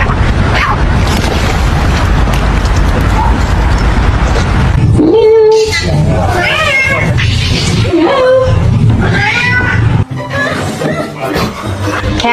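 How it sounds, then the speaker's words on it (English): A cat lets out loud, drawn-out caterwauling yowls, several wavering wails in a row after a stretch of noisy background rumble, close and harsh. "Cat."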